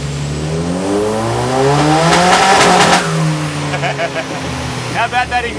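A big-block engine on a dynamometer revs hard, its harmonics climbing steadily through a loud full-throttle pull before the note drops and falls away to a rough, crackling lower run, with a voice speaking over it.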